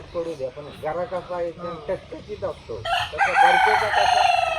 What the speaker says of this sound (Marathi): कोंबडे पण आहेत भरपूर, ओरडत आहेत